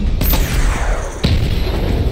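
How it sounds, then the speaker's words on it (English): Missile barrage fire in the video game Batman Arkham Knight: two deep booming launches about a second apart, the second one sharper, over a continuous rumbling roar. "Missile barrage level 1 ready."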